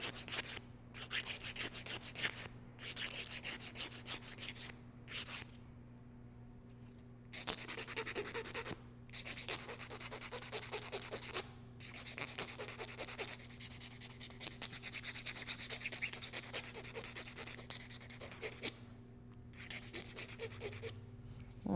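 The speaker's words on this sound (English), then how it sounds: "File your nail." A nail file rasps against a fingernail as it is shaped, close and scratchy strokes in quick bursts separated by short pauses, running steadily over a low electrical hum.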